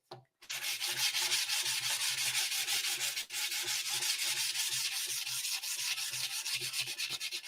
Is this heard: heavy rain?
no